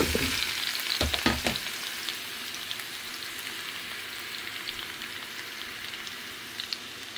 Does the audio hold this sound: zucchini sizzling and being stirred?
yes